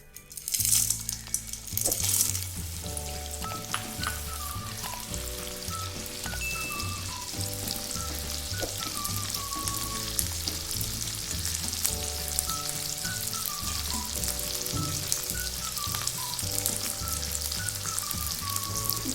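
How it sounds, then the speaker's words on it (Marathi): Edible gum (dink) frying in hot oil in a pan, a steady close crackling sizzle with dense popping throughout, a louder burst of bubbling at the start, and a soft melodic backing running underneath. "डिंक टाकल्यानंतर थोडा वेळ गॅस फुल ठेवून नंतर कमी गॅसवर डिंक तळा म्हणजे तो आतपर्यंत छान तळला जाईल इथे आपण आता डिंक तळून घेऊया"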